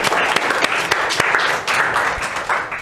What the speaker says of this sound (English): now it's time for applause